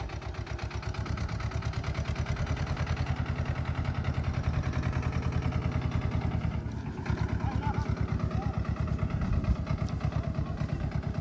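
Swaraj 724 tractor driving through a wet field in 4x gear: a steady, loud diesel throb with rapid even pulses and clattering mechanical rattle, close by throughout.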